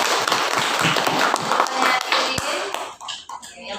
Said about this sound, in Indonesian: kita beri aplaus untuk ranking 3 Widya ya